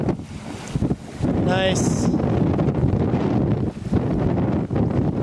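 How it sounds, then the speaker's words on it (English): Strong wind buffeting the microphone at the seaside, a continuous loud low roar with gusts, and a person briefly speaks over it. "It's windy out here."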